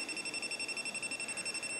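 An RGK AC12 AC voltage indicator beeps in a rapid, even series of high-pitched electronic pulses, about eight per second, steady and close over a faint background hiss.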